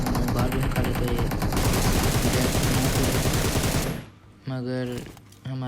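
Rapid automatic gunfire in the mobile battle game PUBG Mobile on the Sanhok map, dense repeated shots for several seconds, then quieter with brief bursts of other game sounds.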